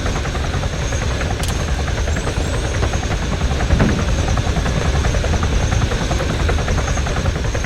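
Helicopter in the military video game Arma 3, with a loud, steady rotor thump and engine drone close by that continues throughout, plus a few sharp transient clicks.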